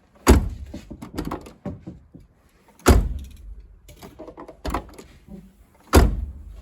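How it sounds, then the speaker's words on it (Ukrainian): A two-door Volkswagen Golf 2 door slams shut four times, each a solid close thud followed by a short rattle, with people talking quietly between the closes. "Як тепер машина закривається?"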